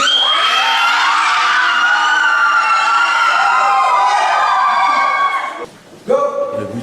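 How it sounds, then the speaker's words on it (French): A siren signal sounds at a children's group activity, a loud sustained wailing tone that holds for several seconds, cuts off, then restarts briefly among crowd noise. "Donc il y aura un deuxième coup de sirène pour vous relever."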